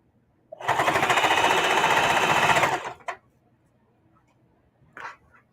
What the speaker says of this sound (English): So we're just finished sewing the last part of the binding on